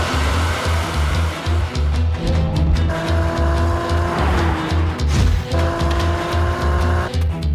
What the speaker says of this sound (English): Now release the brake as quickly as possible and be prepared for maximum acceleration.